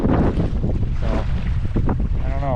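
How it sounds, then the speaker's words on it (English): Waves splash over the bow of an Old Town Autopilot 12 kayak on a lake near Boulder City, close choppy sloshes under heavy wind buffeting against the microphone. "The waves coming right over the front, hitting me in the feet."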